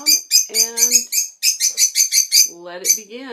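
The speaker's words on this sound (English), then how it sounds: "You can hear them start chirping and getting all crazy." Pet lovebirds near a nesting box chirp excitedly in rapid, shrill bursts, several birds overlapping in loud, close twittering with short pauses between flurries.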